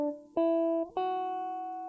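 An electric guitar plays a few sustained, clean notes from a song's solo, two picked attacks ringing out with a slight bend between, close and alone.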